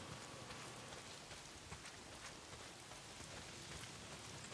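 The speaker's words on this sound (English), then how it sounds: "Well, not if it's pissing down rain." Heavy downpour in the Days Gone video game world, a faint steady hiss of rain falling on surfaces throughout, even and unbroken, with no voices.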